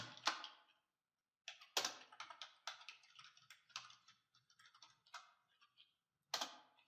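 A password typed on a computer keyboard, heard as bursts of close, crisp key clicks with short pauses between runs and a harder tap at the end.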